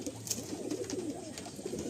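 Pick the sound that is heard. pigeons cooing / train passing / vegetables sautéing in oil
pigeons cooing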